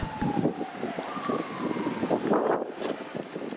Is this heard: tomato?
no